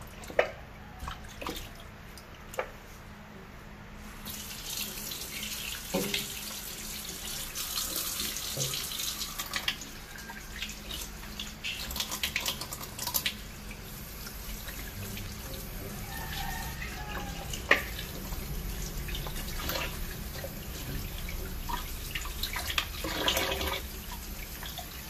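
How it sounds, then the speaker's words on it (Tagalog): Running water from a tap splashes steadily over a pork leg (pata) being washed in a sink, a continuous rushing flow that holds from start to finish, with occasional drips and clunks as the meat is handled. "Hugasan na natin na mabuti ang ating pata."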